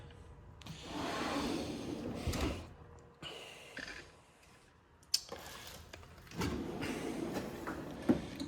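A drawer slides open on a mechanic's tool side locker, giving several soft, rumbling sliding runs with a few sharp metallic clacks between them, all moderately quiet and close.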